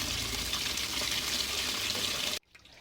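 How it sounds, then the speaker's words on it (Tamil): Sweet potatoes are washed under running water in a kitchen. A steady splashing gush runs close by for about two seconds, then cuts off abruptly. "கிழங்கு நல்லா கழுவி எடுத்துக்குவோம்"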